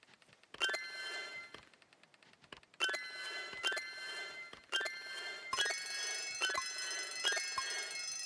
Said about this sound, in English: I very much hate the buzzer.